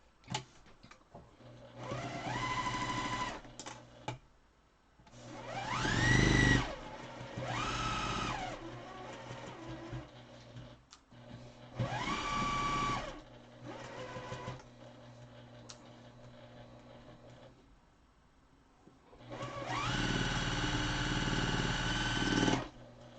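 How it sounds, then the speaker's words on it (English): A sewing machine stitches a quilt block in four or five bursts of rapid mechanical whirring, each ramping up and then stopping, separated by short quiet gaps, close and clear with no talking. "Let's get her sewed."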